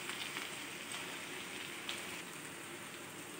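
Potatoes with onion, garlic and spices frying in a pan, a steady, soft hiss and crackle of sizzling oil that stays even and fairly faint throughout, with no talking.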